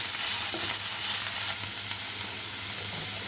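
Mixed vegetables seasoned with black pepper stirring in a frying pan, giving a steady close sizzle with faint scraping of the stirring throughout, no voices.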